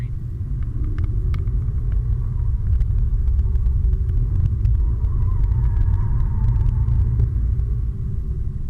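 Steady low rumble of an Acura TLX cabin while driving and taking a left-hand turn, an even engine and road drone with no speech.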